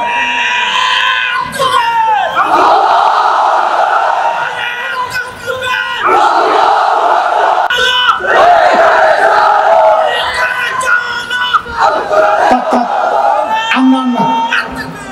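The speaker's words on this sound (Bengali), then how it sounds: "একটা তাকবীর দাও তো জোরে সোরে" A large crowd at an Al Amin Sangstha religious gathering with Hasan Jamil loudly chants the takbir, "Allahu Akbar", in repeated roaring bursts with yells mixed in, close and forceful throughout.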